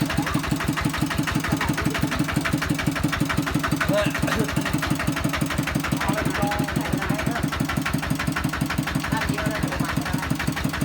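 A farm tractor engine chugs continuously with a fast, regular knocking beat, loud and close throughout.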